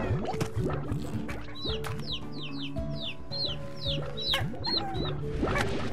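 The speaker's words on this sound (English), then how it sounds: "I can't get these chicks" Chickens cluck and squawk in Slime Rancher, a steady flurry of overlapping bird calls with repeated chirps and squawks over busy game noise, fairly loud throughout.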